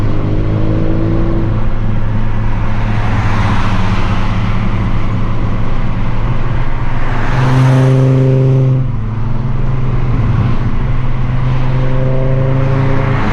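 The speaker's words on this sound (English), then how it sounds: "I really like these Volvos. They sound awesome too." Volvo cars drive past one after another on a road, engines rising and fading as each goes by, fairly loud and with no voices.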